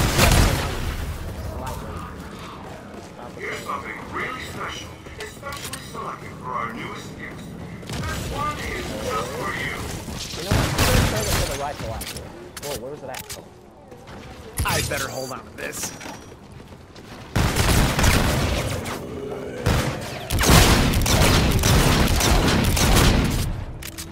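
Grenade blasts and mixed gunfire from a round of Call of Duty: Infinite Warfare zombies, sharp booms bursting repeatedly over continuous game noise, with players talking throughout.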